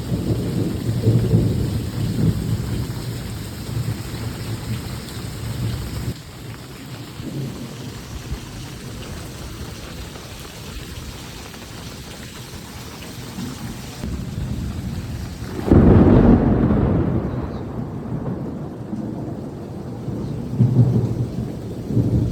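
Heavy rain pours steadily while deep thunder rumbles roll through, swelling into a loud, close crack and rumble about two-thirds of the way in before easing back to the downpour.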